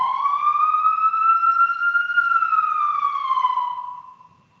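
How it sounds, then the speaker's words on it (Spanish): An ambulance siren sounds outside as it passes, a loud steady wailing tone that rises slightly and then falls, fading away over the last second. "disculpen la ambulancia"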